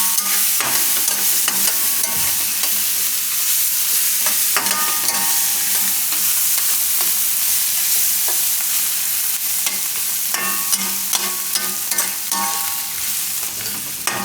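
Thecha rice roasts in hot oil over a low gas flame, with a steady loud sizzle and repeated scraping and clinking of a spoon stirring the pan.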